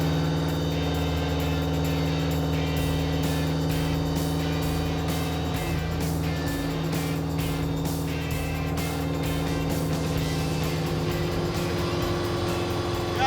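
A muscle truck's engine drones steadily and loudly from inside the cab as it pulls through the gears, with a constant low rumble and small shifts in pitch across the run.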